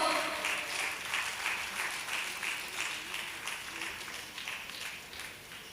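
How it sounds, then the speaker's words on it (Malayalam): An audience at an award ceremony in Palakkad applauds warmly, a dense, sustained clapping that runs evenly throughout and slowly tapers, with no speech over it. "നല്ലൊരു കൈയടി പ്രതീക്ഷിക്കുന്നു"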